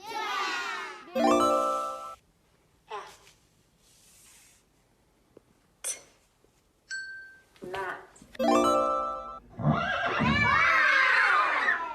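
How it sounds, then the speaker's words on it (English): A horse neighs in a few separate whinnies, spread between lively voices talking and calling out during a classroom phonics lesson, with a short chime and a shrill squealing burst near the end. "Everybody say horse. Horse. What sound? What sound? So we have a horse."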